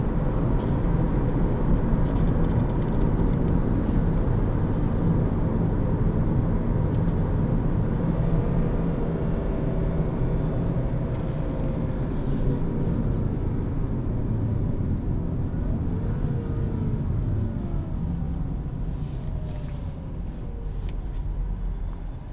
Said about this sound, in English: if you put it up in the upper RPMs, it really slows down very well